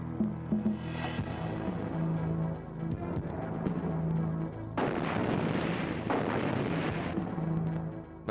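Gunfire in a Hindi-dubbed Hollywood action movie: a steady battle din swells into heavy, booming bursts of shots over about two seconds, then settles back to a dense rumbling background, with no voices.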